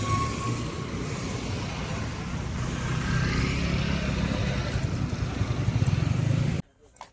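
Steady road traffic roars outside a railway station in Ratnagiri, with vehicles rushing past in a continuous broadband wash that swells toward the end before cutting off abruptly.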